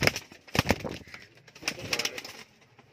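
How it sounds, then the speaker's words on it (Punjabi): Teddy pigeons close by give soft cooing calls mixed with sharp rustling bursts and fluttering, irregular and intermittent, with no talking. "ਜੇ ਦੇਖੋ ਬਾਈ ਦੂਸਰਾ ਟੈਡੀ ਕਬੂਤਰ ਦੀ"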